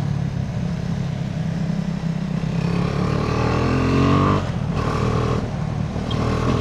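A motorcycle engine revs hard at full throttle climbing uphill on a Bukidnon road, a loud, close, sustained drone that briefly dips twice as the throttle shifts.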